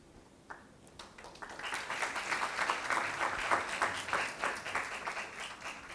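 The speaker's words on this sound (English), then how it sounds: "Please, at least at the time of applause, we can all clap for others" An audience breaks into applause at a ceremony, swelling from quiet within the first second or two into steady many-handed clapping that continues to the end.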